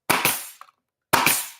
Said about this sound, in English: I'd like to not staple this to my bench